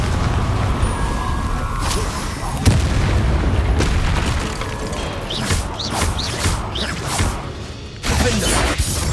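Confringo fire spells blasting in Hogwarts Legacy, with booming explosions, crashes and whooshes layered over constant game combat noise, a heavy impact standing out partway through.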